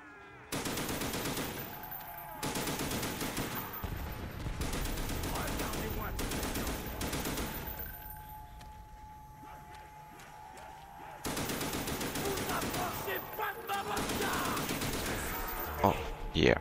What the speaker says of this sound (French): je suis à court de balles